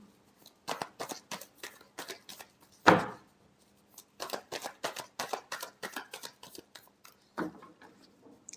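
Tarot cards shuffled by hand in a quick run of crisp riffling bursts, with a sharper thump near the middle and a few slower snaps toward the end, close and fairly quiet with no voices.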